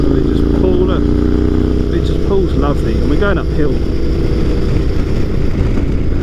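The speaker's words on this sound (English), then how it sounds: "This engine, it's just beautiful, just chugs along like I'm in fifth gear here." A Yamaha Tenere 700 motorcycle engine chugs along in a high gear while climbing uphill with a pillion passenger, a steady low rumble close to the rider, with someone talking over it.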